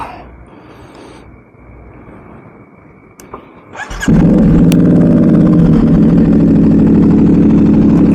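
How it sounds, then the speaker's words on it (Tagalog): A CFMoto 450SR-S or Benelli TNT 600i motorcycle sits quietly, then its exhaust abruptly barks into a loud, steady idle-to-rev drone that continues to the end, close and dominant. "Lakas ba yung tambucho natin?"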